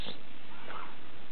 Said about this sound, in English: Can you meow for us?